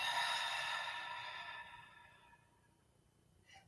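A single long, soft exhale during a sunrise yoga session, an airy breath starting fairly loud and close, then fading out gradually over a few seconds.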